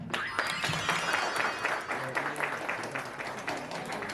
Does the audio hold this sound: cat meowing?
no